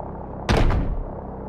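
An AC-130 gunship in Call of Duty Modern Warfare Remastered fires on enemies. A single heavy, booming impact lands close and loud, followed by a rumbling tail that fades into a steady low drone.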